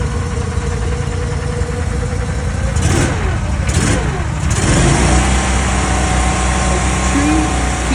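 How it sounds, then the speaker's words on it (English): A cutting machine's engine runs loud and close, holding a steady drone, then rises in pitch as it throttles up for a cut, with a brief wavering surge midway before settling at a higher, constant roar. "So I'm going to throttle up the machine and do a cut now."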